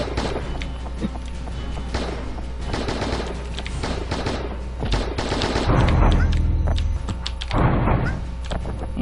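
Gunfire from the online action game Lost Saga rings out as rapid bursts of shots and machine-gun fire, loud and repeated in clusters, over a busy background of game effects.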